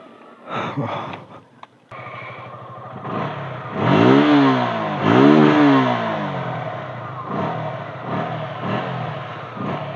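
A motorcycle, unridden for about a week, is started and ridden out on wet roads after rain. A rough idle swells into two rising revs, then settles into a throbbing, medium-loud engine drone up close.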